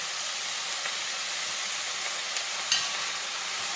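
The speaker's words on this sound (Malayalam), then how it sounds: "കുറച്ച് നേരം ഇങ്ങനെ ഇളക്കിക്കൊണ്ടിരിക്കണം" Mathanga erissery, a pumpkin curry, is stirred in a pan, giving a soft steady hiss and bubbling sizzle throughout with faint scrapes and one brief louder knock near the end.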